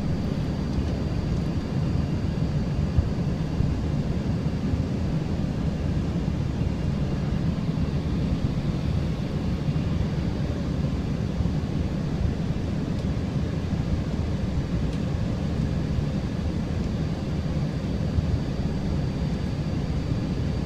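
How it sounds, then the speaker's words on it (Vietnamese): Steady, loud airliner engine roar with wind rush holds constant throughout as the plane descends toward a Kentucky city, with no talk. "Máy bay càng xuống thấp thì đã vào tới càng gần thành phố hơn, nhà cửa đông đúc hơn."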